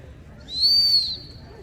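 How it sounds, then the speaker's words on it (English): A single sharp, high pip from a dog training whistle blows outdoors for a gundog, loud and close, lasting under a second against faint background. "One pip on the whistle"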